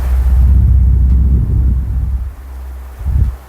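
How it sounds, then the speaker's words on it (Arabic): An electric fan blows at full speed in a room, giving a steady close rushing and rumbling airflow that eases off partway through, with a short gust near the end. "انا دلوقتي طبعا رفعت صوت المروحه، هسمعك صوت المروحه في الوضع العادي."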